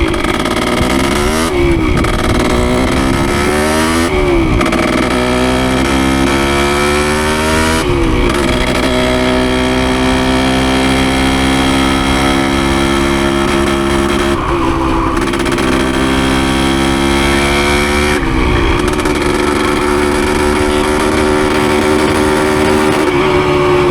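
A 1973 Yamaha CT3 motorcycle with a freshly rebuilt engine rides down a road, its engine droning loud and close with repeated rising revs and drops between gear shifts throughout.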